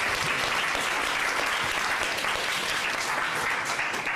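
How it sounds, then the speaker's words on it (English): Steady, dense applause from an audience at a high school Model United Nations committee briefing, continuous and fairly loud throughout with no break. "let's give a round of applause"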